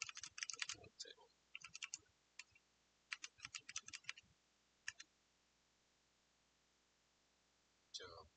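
A computer keyboard clicks in quiet, scattered bursts of rapid keystrokes, including presses of the tab key, separated by pauses, with a final short flurry near the end.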